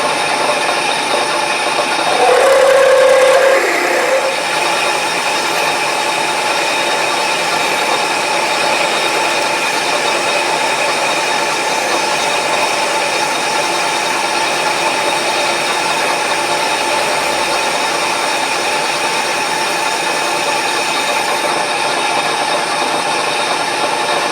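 A steady mechanical whir of a drill running at 900 rpm, cutting 1 inch down through metal while making wheels, running continuously at an even pitch with a brief louder squeal near the start.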